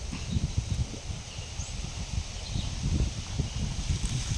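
Strong wind gusts through flowering durian trees in an orchard, leaves rustling over heavy low buffeting rumble that pulses in uneven bursts, with no talking.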